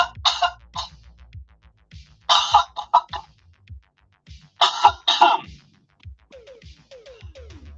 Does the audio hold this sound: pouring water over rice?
no